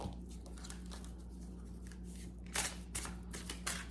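Tarot cards are shuffled by hand in a few soft, close riffling bursts toward the end, following a quiet stretch with a steady low hum underneath.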